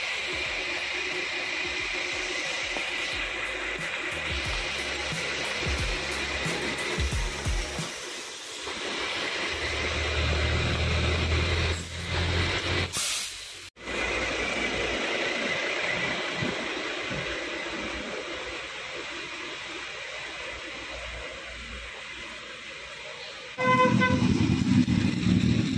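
Megamas intercity bus from Morowali pulling in at a passenger transfer stop, engine rumble and vehicle noise filling the scene, with a loud honk-like burst midway and another blast near the end.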